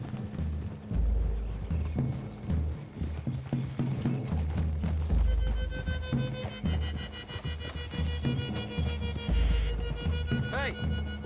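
Horse hooves clip-clop rhythmically at a steady gallop in Red Dead Redemption 2 while characters talk over them, with a brief musical tone rising near the end.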